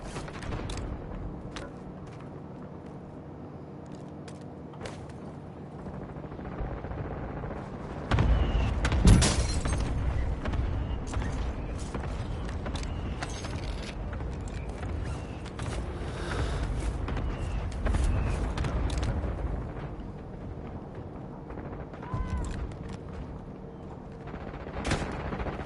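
Call of Duty: Warzone battle with near-continuous machine-gun and rifle fire, heavy explosive thumps swelling around the middle, and a constant loud roar of combat throughout.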